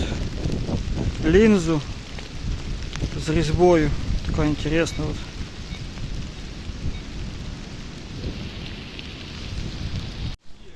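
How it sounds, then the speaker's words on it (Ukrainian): Steady rain patters throughout in a forest, with a voice talking loudly over it in the first half. "у нас йде дощ"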